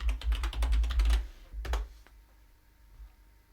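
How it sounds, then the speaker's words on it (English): Quick, close keystrokes on a computer keyboard enter a Wi-Fi password on a Fedora Linux desktop, a rapid clattering burst followed by a couple of final taps before the room falls quiet. "you click connect here, and you enter your password"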